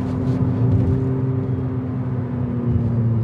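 An Abarth 500e electric car gathering speed on a narrow country road, heard from inside as a steady low rumble of road and tyre noise with a faint electric whine, even and continuous.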